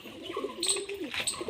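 A female pigeon offered for sale gives one short, soft, rolling coo, heard up close and on its own.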